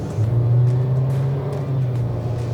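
A 2024 Hyundai Creta with an IVT transmission accelerates, its engine note a steady, smooth drone that holds loud and even for the whole stretch with no voices over it.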